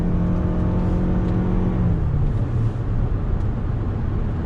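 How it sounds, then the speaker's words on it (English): 2019 Toyota RAV4 Hybrid accelerating on throttle, a steady engine drone whose pitch climbs and then drops as the gear changes, heard from inside the cabin with no talk. "I'm going to go ahead and get on throttle."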